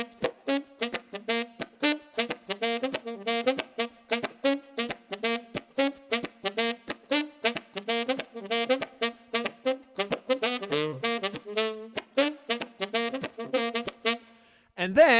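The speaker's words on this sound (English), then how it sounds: "me making some percussive sounds with my mouth through the saxophone." Tenor saxophone with percussive mouth sounds pushed through the horn as a backbeat, giving a rapid train of short, punchy pulses in a steady groove, close and alone with no talking.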